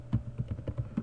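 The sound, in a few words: typing on a computer keyboard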